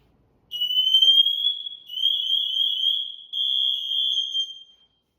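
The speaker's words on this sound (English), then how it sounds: "now we're just gonna test the pass alarm here" A shrill, piercing electronic tone from a firefighter's PASS alarm being tested sounds in three sustained blasts with brief breaks, loud and close, with no talking.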